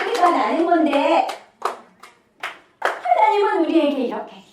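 Three sharp, separate hand claps ring out in a children's worship session, set between stretches of a speaking voice.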